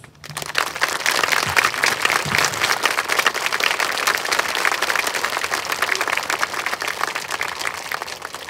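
Audience at a school Veterans Day concert giving a sustained round of applause to honour veterans and service members, dense steady clapping that starts abruptly and holds loud.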